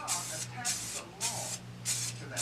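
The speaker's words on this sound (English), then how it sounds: "Just lightly spray some gold." Four short, even hisses from an aerosol can of metallic gold spray paint, close and fairly quiet, spaced about half a second apart over a faint background hum.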